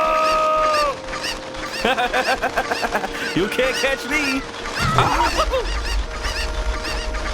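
Cuccos cluck and squawk in Zelda: Ocarina of Time as a swarm of the chickens closes in. Repeated short fowl calls and game effects sound over an excited voice talking throughout.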